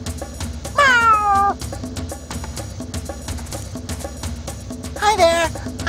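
Two stylized cartoon meows, one near the start and one near the end, over steady background music in the PC game SpongeBob Lights, Camera, Pants!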